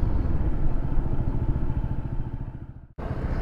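A Honda PCX 160 motor scooter engine runs steadily and close by during a drag race, a low rumbling drone that dips briefly near the end before picking up again.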